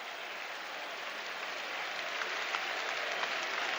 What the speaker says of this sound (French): Les applaudissements que vous entendez sont pour Faustino Asprilla